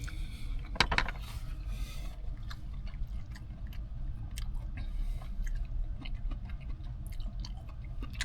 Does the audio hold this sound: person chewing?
yes